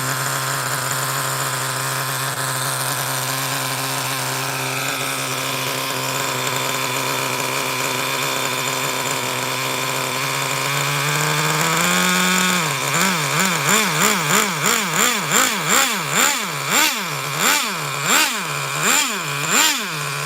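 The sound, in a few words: nitro engine of a MudBoss being fired up and revved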